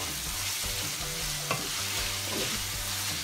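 Browned ground meat for a meat sauce sizzles steadily in a pan, a dense close hiss with a light scrape partway through and no talking.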